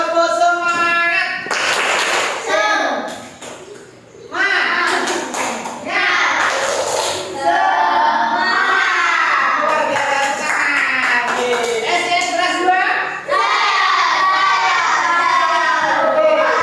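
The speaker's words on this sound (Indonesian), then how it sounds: "Ayo, tepuk semangat." Children in a classroom perform a rhythmic spirit clap, loud patterned hand claps mixed with chanting and shouting voices throughout.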